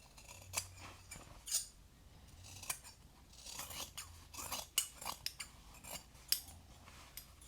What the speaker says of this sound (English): Trim the little corners, make sure that everything is even.